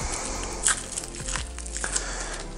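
Packaging torn open around the 8 mm router bit supplied with a Skil 1860AA router: quiet, close crinkles and rustles with a few sharper crackling snaps.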